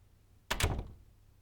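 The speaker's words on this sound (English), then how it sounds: "Shut the door behind you." A door closes with a single muffled thud and a short rattle, close by in a quiet room.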